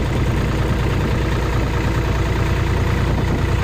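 A Massey Ferguson 240 tractor engine runs steadily at idle, a continuous close, low rumbling drone with no pauses.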